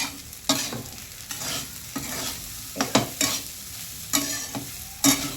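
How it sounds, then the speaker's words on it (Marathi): Sabudana khichdi tossed and fried in a pan, a series of distinct stirring scrapes about every half second to a second over a low, steady sizzle, with no talking. "आता ह्याला मी वरती खालती करून चांगला परतून घ्यायचा"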